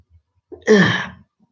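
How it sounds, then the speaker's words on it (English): A single sneeze close to the microphone, a short sharp burst after a quick intake of breath, then quiet. "Excuse me, I'm about to sneeze."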